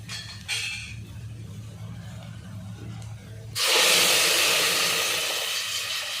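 Puran water poured into hot tempering for amti bursts into a loud, steady sizzle after a few quiet seconds of low kitchen hum and faint clinks.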